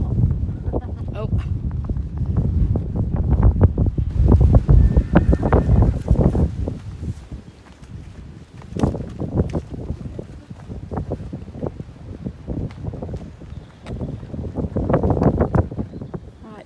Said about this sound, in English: Right, that's why it's so windy.